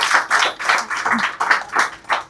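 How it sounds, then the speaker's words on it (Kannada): An audience at an influencer awards function claps in loud, rhythmic bursts, each wave of applause rising and falling about three times a second. "ಈಗ ಜೋರಾದ ಚಪ್ಪಾಳೆ ಬರ್ಲಿ ನಮ್ಮ ಸಿಸ್ಟರ್ಗೋಸ್ಕರ"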